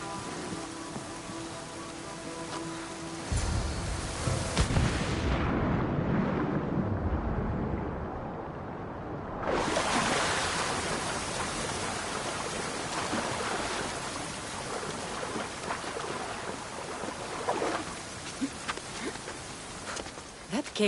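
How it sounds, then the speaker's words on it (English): Waterfall in the Assassin's Creed Odyssey game, a broad, continuous rushing roar that swells louder midway, briefly drops almost out, then surges back and keeps rumbling steadily. "This is the waterfall."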